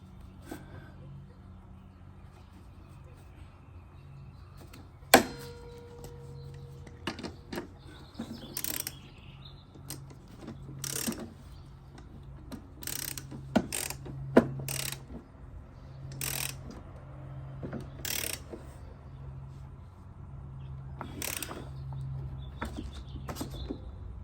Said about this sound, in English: So now I'm gonna put a clamp here. Tight a little bit more.